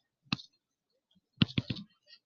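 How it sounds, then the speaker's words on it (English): Calculator keys being pressed while entering a trigonometry calculation: one isolated click, then a quick cluster of three or four sharp taps a second later, close and fairly loud against silence. "I'm going to type this in one more time."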